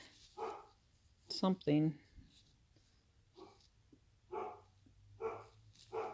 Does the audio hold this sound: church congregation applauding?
no